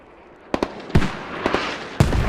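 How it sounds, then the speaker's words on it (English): Mortar shells explode in a multiplayer war game, a rapid series of sharp, close blasts, several quick cracks followed by heavier booms with rumbling tails, loud and without talk. "Mortar's coming down and hitting Steel Division"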